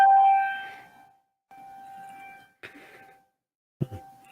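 Air raid sirens sound outdoors near a village: steady, held wailing tones rise and fade in separate stretches with short gaps between them, fairly distant. A brief sharper noise follows near the end.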